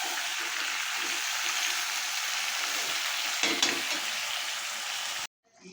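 Desi chicken curry simmering slowly in a wok, a steady close sizzle and bubbling that runs almost throughout, with a brief louder stir or clatter near the middle before it cuts off.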